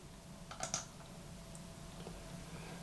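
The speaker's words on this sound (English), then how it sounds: "pressing Command and space on your keyboard, typing in Docker" Keys clatter on a Mac computer keyboard in a short quick burst of a few clicks, then fall quiet with only faint room hiss, close and soft.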